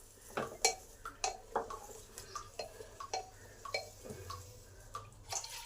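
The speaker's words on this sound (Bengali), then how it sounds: "এই জলটা প্রেসারে দিয়ে দেবো। দিয়ে হালকা করে নেড়ে নেবো।" A spoon stirs water in a metal pressure cooker over medium heat while eggplant bharta cooks, making a steady run of light clinks and scrapes against the pot, close and fairly quiet.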